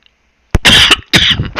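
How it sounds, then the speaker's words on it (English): Person coughing close into a microphone during a live stream, a sharp cough followed by two more harsh bursts, loud and near with no talking. "Sorry, I didn't mean to cough into the mic."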